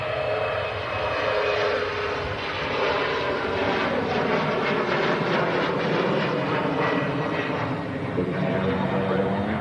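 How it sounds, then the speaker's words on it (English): A Virgin Atlantic Airbus A330 pulls onto its stand at Manchester Airport, its engines giving a steady, loud broadband roar that holds evenly throughout. "The sun catching that Virgin Atlantic A330 as well. Pulling on to stand on Mac Cam."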